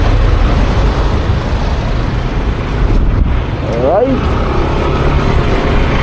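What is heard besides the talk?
road traffic noise on the C5 highway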